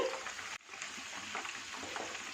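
Butterfly chicken frying in oil over low heat, a steady soft crackling sizzle that runs on with a brief dropout near the start, close and even throughout.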